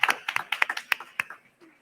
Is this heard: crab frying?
no